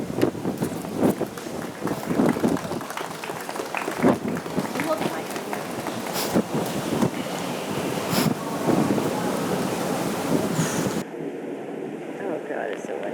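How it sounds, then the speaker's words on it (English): Strong wind buffets the microphone throughout an outdoor wedding ceremony, with gusty roaring bursts under people talking, then drops off abruptly near the end. "Oh God, it's so windy."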